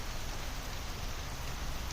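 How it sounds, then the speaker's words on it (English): Steady rain falls on garden plants, making an even, soft hiss of drops that holds constant throughout, fairly faint and with no talking. "And now it's raining and all the plants are saying,"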